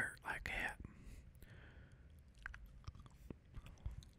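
Close-up, quiet mouth sounds of bubble gum chewed with the mouth open, with soft wet smacks and clicks in an irregular rhythm, following a brief whisper.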